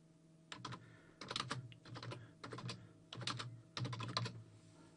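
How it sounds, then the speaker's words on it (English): Keystrokes on a computer keyboard, typed in several short bursts of clicks with brief pauses between them, close and fairly clear over a faint steady hum. "So from here, I'm going to put a brief description."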